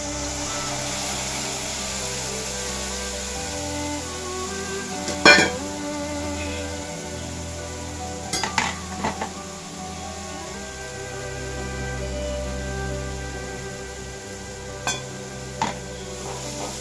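Yogurt is stirred into frying pakoda gravy in a pan: a quiet, steady sizzle with occasional spoon scrapes and clinks against the pan.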